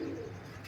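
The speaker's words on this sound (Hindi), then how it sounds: "कमाल का रंटीक कबूतर है ये।" Low, soft cooing of a runtik pigeon close by, a steady murmur under faint background hiss, with no talking.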